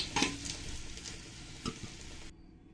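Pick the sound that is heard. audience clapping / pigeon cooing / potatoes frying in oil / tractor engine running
potatoes frying in oil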